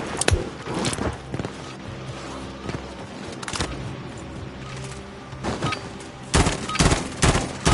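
Video game gunfire crackles in scattered bursts and sharp single shots, loud and close, with heavy thuds clustered near the end and no talk over it.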